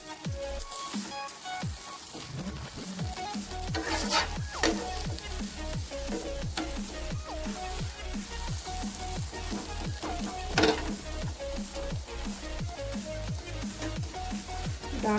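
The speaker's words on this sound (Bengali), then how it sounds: "উল্টে আরেকটা পাশে খুব ভালো মতো করে ভেজে নিচ্ছি আর 2 মিনিট ধরে।" A vegetable flatbread made with greens stems and potato fries in oil in a pan, giving a steady, close, crackling sizzle with scattered pops and spatters throughout, no talk.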